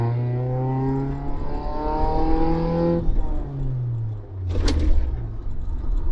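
Road and engine noise fills the cabin of a 2001 Mazda Protege MP3, a car with thin panels and no sound deadening. The engine climbs through the gears with rising whines and shifts over a steady rumble of road noise, close and continuous, with no talking.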